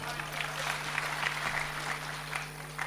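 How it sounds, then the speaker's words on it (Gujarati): An audience at a Gujarati comedy show claps steadily for a performer, a continuous patter of applause with a low mains hum underneath. "વધાવો જગદીશભાઈને તાળીઓ છે."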